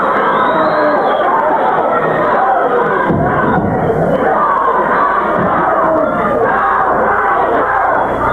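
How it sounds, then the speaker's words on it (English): A wrestling arena crowd roars and chants in steady unison, loud and continuous throughout, with cheering and babble filling the hall. "the crowd picking up a chant here, "Go Brian, go.""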